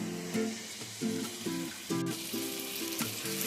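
Whisked sour yogurt hits hot spiced oil for murg musallam, giving a steady crackling sizzle broken by soft stirring scrapes over a low flame; no talking.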